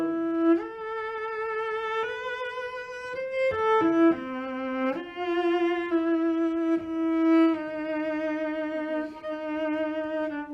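Sustained bowed cello notes play alone, each long tone held smoothly before shifting to the next, rich and close.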